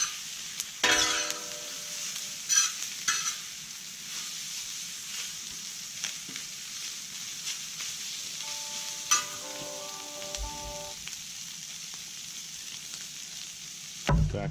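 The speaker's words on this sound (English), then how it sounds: "So I'm going to go ahead and put my brisket in." Brisket warming and sizzling on a cooking disc for breakfast migas, a soft steady frying hiss with a few sharp metallic clinks and utensil scrapes scattered throughout, no talking.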